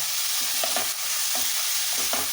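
Chicken fries in a pan for a gravy, giving a dense, steady sizzle close up, with several soft stirring scrapes of a spoon over it and no voices.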